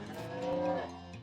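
A demon cow in the West of Loathing video game lets out a single drawn-out, tonal moo, clear and up front in the game audio with no voices over it.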